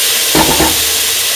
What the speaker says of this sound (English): Now putting the potato pieces.